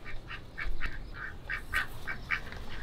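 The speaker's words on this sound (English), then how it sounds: "Apparently there's ducks living under it." Ducks living under a structure quack repeatedly in a quick, irregular series of nasal calls, moderately faint against quiet outdoor background.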